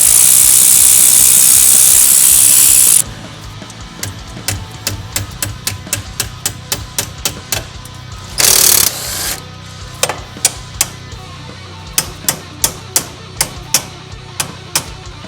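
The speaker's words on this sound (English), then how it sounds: "A punch and a hammer." A hammer strikes a punch on the shift linkage of an Integra VTEC during engine removal, giving a long series of sharp metallic taps in an uneven rhythm, close and loud, after a few seconds of steady hiss.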